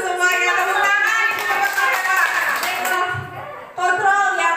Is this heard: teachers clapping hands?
yes